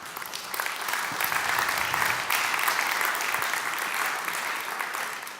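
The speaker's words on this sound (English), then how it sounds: "I think a big round of applause to going that route for us." Conference audience at an industry event in Munich applauds: sustained dense clapping from a crowd for about five seconds, steady and fairly loud, tapering slightly at the end.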